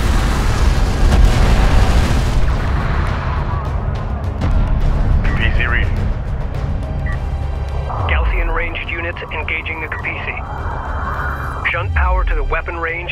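Hostile craft blowing apart in the desert strategy game Homeworld: Deserts of Kharak, a dense rumbling boom spread across a busy battle mix, with electronic chirps and an announcer voice speaking over it.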